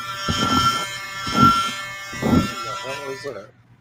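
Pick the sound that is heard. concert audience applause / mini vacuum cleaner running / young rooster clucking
mini vacuum cleaner running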